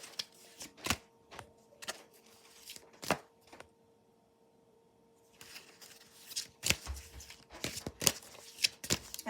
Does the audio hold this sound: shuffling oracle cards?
yes